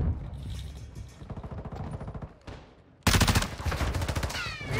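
Automatic gunfire rattles in Call of Duty: Modern Warfare II, rapid bursts of shots that turn suddenly louder and denser partway through, with some sharper shots near the end.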